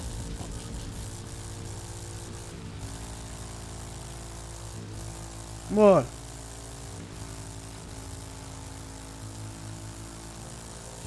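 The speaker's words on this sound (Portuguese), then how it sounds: "A moto é muito braba. Ó. Cortando o giro e só vai." Motorcycle engine bouncing off the rev limiter in The Crew 2 racing game, a steady buzzing drone with a brief louder rising sweep midway, under a short spoken remark.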